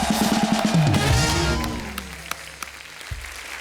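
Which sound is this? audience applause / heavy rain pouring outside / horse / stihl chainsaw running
audience applause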